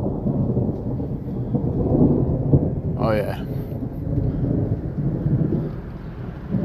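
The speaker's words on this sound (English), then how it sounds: "Oh, now it's starting to rain." Rain falls steadily with low rolling thunder during an outdoor lightning storm, a loud rumble filling the scene while someone speaks briefly over it.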